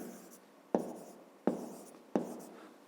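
Pen strokes on paper while writing out a fifth-grade maths solution, three distinct scratchy strokes at even intervals, close and quiet, each fading quickly.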